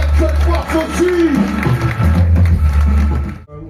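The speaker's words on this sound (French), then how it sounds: "Je vous demande d'applaudir Mr. Play, mon fondateur d'Actuel Force aussi." An audience at a weekend VNR event applauds and cheers for Mr. Play, a crowd roar mixed with scattered clapping and voices over a low rumbling background, fading out abruptly at the end.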